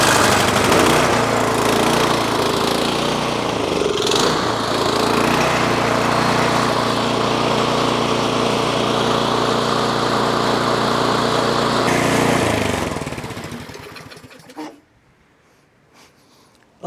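An electric-start Craftsman snowblower engine running with a loud, steady small-engine drone and a slight hunting wobble, then shutting off and dropping to near quiet near the end.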